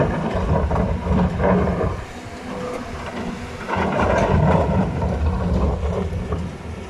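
A Caterpillar 320 Next Gen excavator runs steadily at close range, its engine producing a continuous heavy rumble with dense mechanical clatter that dips briefly around the middle before surging again.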